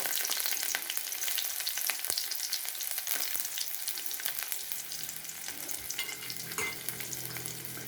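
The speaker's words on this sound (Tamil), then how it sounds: "எண்ணெய் காஞ்சிடுச்சு. இப்போ கடுகு போட்டிருக்கோம்." Steady crackling and sizzling of mustard seeds frying in hot oil, with scattered pops throughout and no talking.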